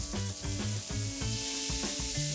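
Burger patty pressed flat onto a hot oiled griddle, a loud close sizzle running under a rapid series of metallic spatula scrapes and knocks, with no speech.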